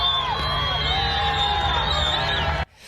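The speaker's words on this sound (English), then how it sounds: "You can hear people cheering," A crowd cheering and shouting outdoors, a dense continuous roar of voices with high whoops, cutting off abruptly near the end.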